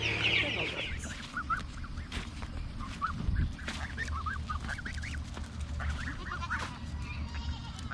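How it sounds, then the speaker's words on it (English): Geese honk on a farm in repeated short nasal calls, some overlapping, at moderate distance over a low background rumble, with other fowl nearby. "See some geese. That's a goose right there."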